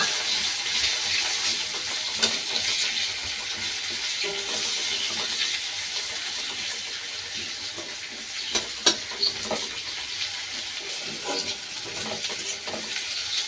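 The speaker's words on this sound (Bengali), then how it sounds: "পেঁয়াজটা একটু লাল লাল ভাজা হবে।" Chopped onion frying with whole cumin in a pan until reddish: a steady broadband sizzle with occasional sharp spatters and stirring clicks, close and continuous, no talking.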